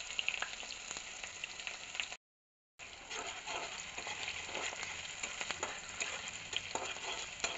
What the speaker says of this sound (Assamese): কেৰাহীত তেল দিয়া হ'ল, তেলখিনি পূৰা গৰম হৈ গ'ল। এতিয়া মই পিঁয়াজখিনি দি দিম।